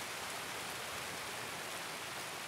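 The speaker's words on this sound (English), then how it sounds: "All right, still raining." Steady rain falls in the online shooter Escape from Tarkov, a dense, even hiss of drops spread across the whole clip at low level, with no voices over it.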